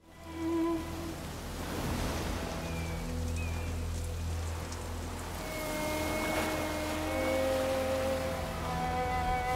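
Rain falls steadily during the rainy season as a continuous hiss, with a few faint tonal sounds drifting over it.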